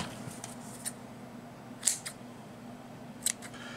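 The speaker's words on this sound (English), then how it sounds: "Scissors" Two sharp, crisp snips of scissors cutting cotton wick for a vape atomizer in a quiet room, separated by a pause, with faint rustling in between.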